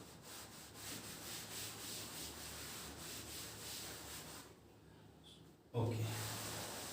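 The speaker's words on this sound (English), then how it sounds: "I'm going to rub this diagram because it is not needed anymore." A diagram being rubbed off a classroom board during a physics lesson, a soft continuous scrubbing with rhythmic strokes that fades to near quiet before a brief louder knock at the end, faint and close.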